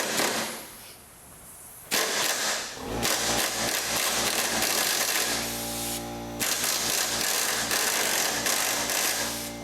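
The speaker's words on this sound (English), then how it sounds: "It's made by Ingersoll Rand. It's a little baby impact wrench." A small Ingersoll Rand impact wrench runs on the 14 mm upper radiator support bolts of a 2002 Hyundai Sonata, making loud sustained buzzing whirs in long bursts with short gaps between them.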